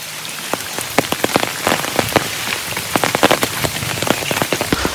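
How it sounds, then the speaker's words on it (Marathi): Rain patters steadily on a hard surface at Tikona fort, with many sharp individual drops and splats standing out over a continuous wet hiss. "पाऊस कंटिन्यू चालू आहे"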